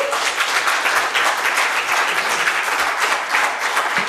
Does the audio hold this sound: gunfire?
no